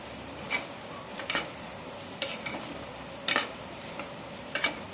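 Black peas boiled earlier and finely chopped potato fry in a pan, a soft sizzle with a few sharp bursts of stirring and scraping at a moderate distance, no voices.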